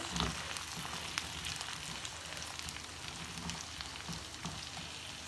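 Garlic, ginger and onion masala fries steadily in a pan with a continuous soft sizzle and faint stirring scrapes, close and even throughout with no talking.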